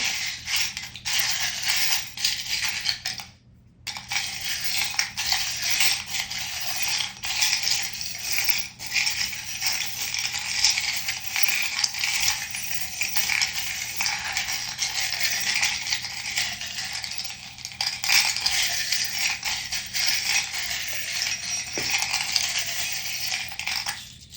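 Small metal charms rattle and clink loudly against glass in a jar, shaken continuously with a brief pause early on.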